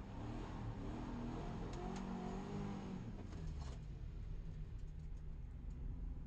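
Subaru WRX drift car warming its tires at a grassroots drift event, a continuous engine drone with rising revs, heard from a distance and fairly faint.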